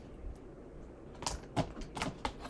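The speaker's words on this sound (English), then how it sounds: "So I'm going to cut this out." Scissors snipping through a paper pattern for a necktie belt made from a thrifted tie, several sharp crisp clicks close by after a quiet start, with no talking.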